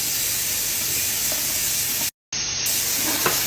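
A high-pressure gas burner roars as a steady, loud, broad hiss close by, broken by a brief dropout.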